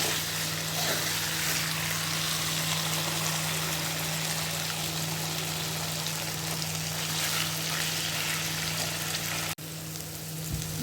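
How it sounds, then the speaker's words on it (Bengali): Potatoes fry in hot oil with turmeric and salt, giving a steady, close, even sizzle that runs without pause before a brief cut near the end, with no talking. "তো দেখো আলুগুলো ভাজা হয়ে গেছে, আমি হলুদ লবণও দিয়ে দিয়েছি, আর একটু হালকা করে ভেজে নিই"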